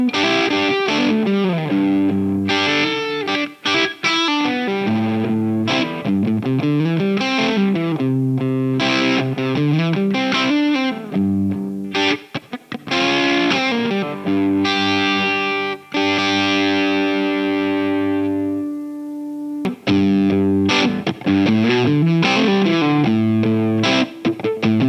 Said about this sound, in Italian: A mio avviso è uno dei suoni fuzz più belli che abbia mai sentito